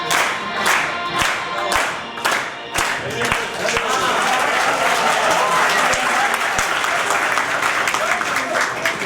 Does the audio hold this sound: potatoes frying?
no